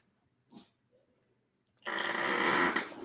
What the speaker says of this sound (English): Hear my dog back there.